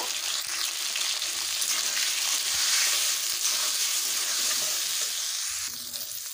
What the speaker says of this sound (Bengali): এবার দিয়ে দেব পটলটাকে দেব একটু লবণ, দিয়ে দেবো হলুদ গুঁড়ো, দিয়ে ভালোভাবে ভেজে নেব